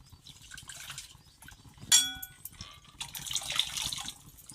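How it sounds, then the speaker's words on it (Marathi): Hot water is poured into Pandharpur-style bajari amti, a soft liquid trickle and splash with a bright metallic clang of the vessel partway through, faint and close. "आणि टाकताना गरम पाणी टाकायचं"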